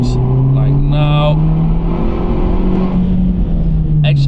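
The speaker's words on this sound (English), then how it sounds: "I accelerate to about 100 kilometers an hour a few times, like about 10 times, and I brake until 15-20 kilometers an hour" A BMW 1 Series 114i F20 hatchback drives at road speed, its engine a steady loud drone with shifting pitch as it accelerates and slows, with road and wind noise around it.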